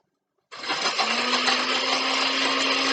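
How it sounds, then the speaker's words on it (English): A kitchen blender starts abruptly and runs steadily, grinding bread into homemade Italian breadcrumbs, with a loud, constant motor whine and a sustained low hum. "at this point, we're just playing with the blender."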